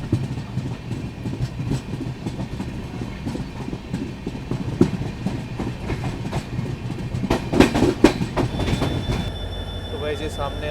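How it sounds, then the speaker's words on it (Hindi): The Tutari Express, hauled by a WDP 4D diesel locomotive, rumbles by close with rhythmic wheel clatter that builds toward the end, followed by a brief high squeal and a mechanical hum. "तो भाई ये सामने आ चुकी है तुतारी एक्सप्रेस WDP 4D लोगों के साथ।"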